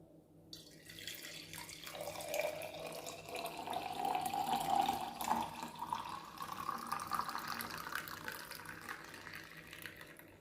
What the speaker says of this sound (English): Now the juice is ready. Time to pour it out.